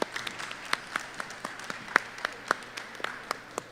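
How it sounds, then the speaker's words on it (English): A small audience at a fourth-grade academic bowl claps after a mathematics round, giving sparse, distinct handclaps that sound thin and faint rather than a full ovation. "Give them a round of applause."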